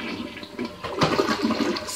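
A toilet flushes with a brief gurgle followed by a loud, rushing surge of draining water, close and alone.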